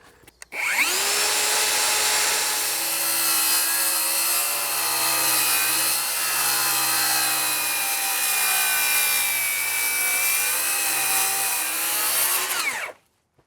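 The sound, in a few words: saw blade cutting composite decking board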